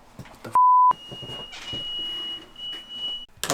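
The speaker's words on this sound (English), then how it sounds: "the smoke alarms in the house work" Inside a house, a smoke alarm lets out a single sharp electronic beep lasting under half a second, loud against a quiet room. A faint, thin high tone lingers afterward alongside soft movement noises.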